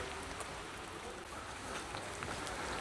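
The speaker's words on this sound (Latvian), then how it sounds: "Nu, laikapstākļi tie ir labi, lietus, forši" Steady rain falls evenly and softly, a constant faint hiss with no clear breaks, during an evening half marathon run in the Trakai area.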